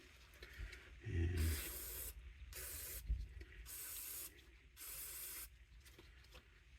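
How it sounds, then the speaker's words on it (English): Carb cleaner sprays into the carburetor of a 2007 Arctic Cat ATV in several distinct hissing bursts separated by short pauses, close and fairly quiet, with no talking. "I'm gonna get some carb cleaner here."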